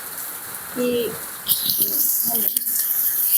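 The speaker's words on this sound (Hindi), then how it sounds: "यहाँ पर इतना तेज़ बारिश हो रही थी, इतना तेज़ हो भी रही है इस वक्त" Heavy rain beats down under a sheet-metal shelter with a loud, bright, continuous hiss that swells after the first moment, mixed with a few bird calls and a brief voice.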